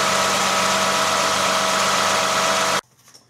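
A Toyota/Lexus V6 engine idling loudly and steadily with a constant hum after an oil change, then cutting off abruptly, leaving near silence.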